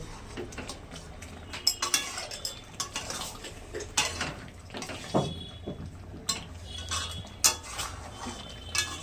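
A cooking pot of rajma curry is shifted and lifted off the stove: close metallic clanks, scrapes and utensil knocks come in irregular clusters over a low kitchen background.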